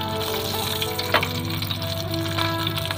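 Climbing perch fish fry in hot oil outdoors at an oil palm plantation, ready for sambal belacan, giving a continuous close, bright sizzle with occasional clinks and stirring scrapes.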